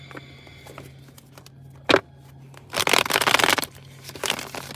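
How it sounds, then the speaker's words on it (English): Tarot cards shuffled by hand in a brief papery riffle, a short snap followed by a denser rustling burst, close and moderately loud over a steady low hum. "I'm gonna shuffle these cards up"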